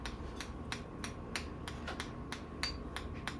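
A spoon tapping an egg shell to crack it, a steady series of sharp light taps, close and fairly quiet, with no talking.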